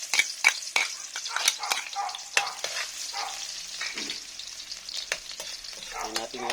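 Garlic fries in hot cooking oil in a pan, a close, steady sizzle with crackling pops and the scrape of stirring. No one talks.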